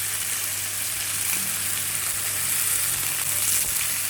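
Chicken pieces sizzle in a grill pan, a steady, close frying hiss with soft crackles running throughout and no talk over it.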